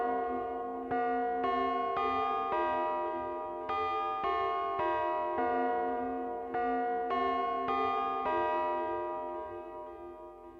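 Metallic ring-modulated synthesizer bell tones strike repeatedly in a slow melodic pattern, each chime clangy and inharmonic, ringing and decaying before the next.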